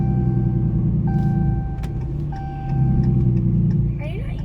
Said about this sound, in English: Listen to that exhaust brake now.